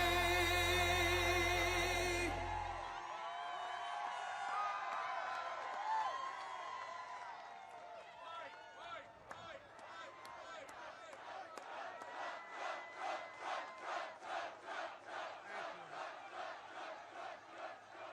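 A big crowd at a Donald Trump rally in Mosinee, Wisconsin cheers and shouts as a music track cuts off, then the noise settles into rhythmic, pulsing chants that swell and fall in a steady beat.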